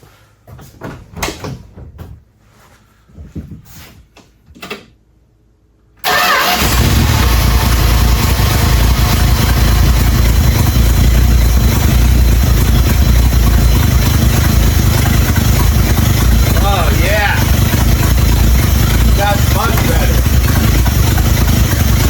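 A neglected 1978 Dodge D150 pickup that sat for 20 years: a few clunks and knocks, then the engine abruptly fires and settles into a loud, steady, close idle that runs on unbroken.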